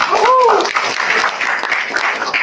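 Applause from an audience at an Indonesian community business seminar, a dense steady wash of many hands clapping for about two and a half seconds, with a brief whistle-like tone near the start.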